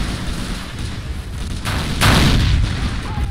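Nebelwerfer rocket artillery firing in the Faces of War strategy game, a continuous rumbling barrage of launches and booms that swells into a louder, denser burst near the end, with no talk.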